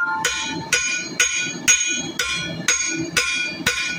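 A hammer strikes a hot arrowhead on an anvil during forging with copper and rawhide, eight sharp ringing blows at a steady rhythm, close and loud.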